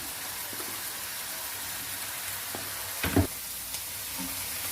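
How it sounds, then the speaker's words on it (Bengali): Snails frying in a pan with salt and turmeric, a steady close sizzle with a single brief clatter of stirring near the middle. "শামুকটিকে আমি বেশি ভাজবো না বেশি ভাজলে এটি শক্ত হয়ে যাবে"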